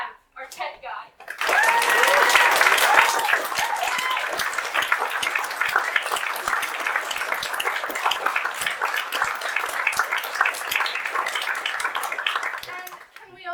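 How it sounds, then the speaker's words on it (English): An audience at a live theatre performance of a campfire-stories play at a festival bursts into sustained applause, loud and dense at first, then holding steady and fading out near the end. "can we also have a round of applause for Kenny, who stepped in at the last minute to stagehand"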